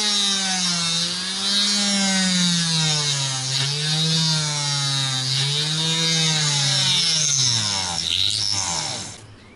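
An electric drill bores a hole through a guitar body, giving a loud, steady whine whose pitch wavers under load for about nine seconds before winding down at the end.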